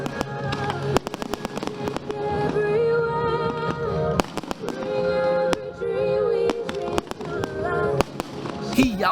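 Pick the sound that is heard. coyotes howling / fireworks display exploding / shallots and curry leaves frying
fireworks display exploding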